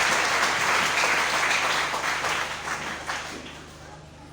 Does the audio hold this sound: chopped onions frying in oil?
no